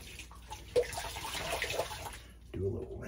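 A shaving razor is swished through a bowl of cold water, producing soft close splashing and trickling for a couple of seconds before a quieter gap and a final burst of sloshing, with speech partly over it.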